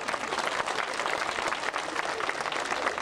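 Steady applause from a packed chamber of the Greek Parliament during a protest session, dense and continuous clapping filling the room at moderate distance, with faint voices mixed underneath.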